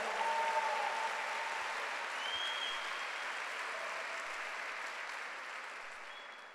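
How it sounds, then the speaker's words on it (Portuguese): Church congregation applauding during a Sunday worship service, a steady wash of clapping that holds for several seconds, gradually thinning toward the end, with no talk over it. "Dê um aplauso ao Senhor."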